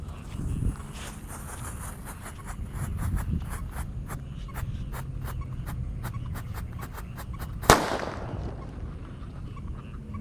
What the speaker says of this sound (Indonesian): malam ini kita akan menyalakan disco happy flower lap-lap Thor guys